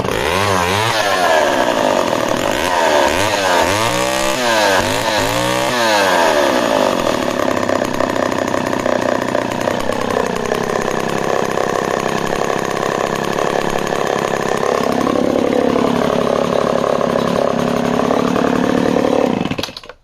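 A Homelite Super XL12 chainsaw runs close and loud, revving with a few throttle blips at first, then holding a rough, steady buzzing idle with a brief dip and recovery before it cuts off at the end.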